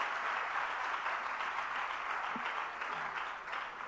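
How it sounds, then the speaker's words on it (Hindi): A crowd at a Jain religious question-and-answer gathering in Agra claps steadily, a soft, distant, continuous patter of many hands that stays fairly even throughout. "तालियां बहुत हल्के से बजी हैं, जरा जोरदारी से बजनी चाहिए सब तरफ"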